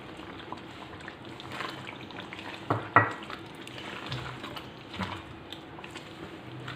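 Tomatoes and tamarind pulp go into a simmering Hyderabadi green chilli and tomato salan with ghee separating, giving a steady low frying sizzle with soft stirring and a couple of sharper splashy bumps midway.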